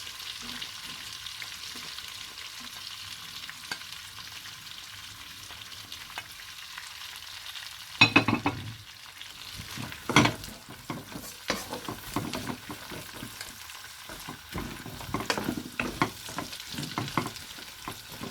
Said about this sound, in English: Just fry these onions and green chilies.